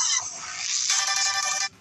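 A phone rings in a Minecraft game, a bright electronic ringtone with layered tones playing steadily and loudly for most of the moment before cutting off abruptly.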